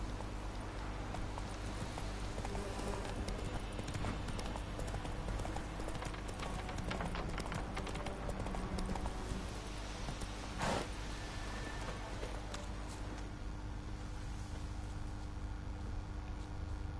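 Roach the horse gallops in Witcher 3 with a steady rapid clip-clop of hooves, layered over a constant dense wash of rain-like ambience that continues throughout.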